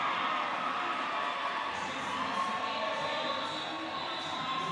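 A roller derby crowd at a World Cup bout cheers and roars in a steady, dense wash of noise that fills the arena without pause.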